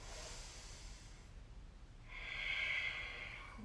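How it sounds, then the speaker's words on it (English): Deep, slow breathing during a yoga class: a soft, airy inhale gives way to a louder, sustained exhale through the nose, close and intimate with no talking. "Breathing deeply here."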